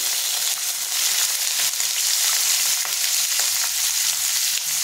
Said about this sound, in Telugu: ఆయిల్ వేడైన తర్వాత ఆనియన్స్ వేసుకోవాలి. ఉల్లిపాయలు 3 ఉల్లిపాయలు, 3 పచ్చిమిరపకాయలు